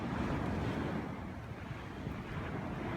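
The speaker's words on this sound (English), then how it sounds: "So windy." Strong wind buffets the microphone at a beach while surf rushes and churns continuously, a dense, loud roar without any voices.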